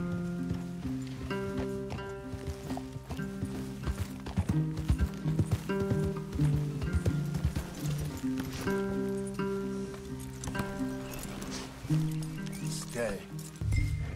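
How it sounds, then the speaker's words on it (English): Horses walking in the video game Red Dead Redemption 2, soft clip-clopping hooves under steady music with a voice speaking over them. "Leave the horses in the trees there."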